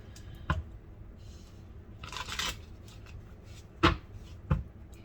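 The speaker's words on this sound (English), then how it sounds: "One more shuffle, please." Tarot cards are shuffled close by in short bursts: quick flicks and a papery riffle, interspersed with a few sharp taps, no talking.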